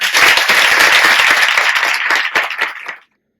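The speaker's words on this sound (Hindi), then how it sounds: "नारायण ध्यान केंद्र को जोरदार तालियां बजाओ" Loud, dense applause from an audience at the Narayan Dhyaan Kendra meditation centre in Kaithal, sustained close up for about three seconds before cutting off abruptly.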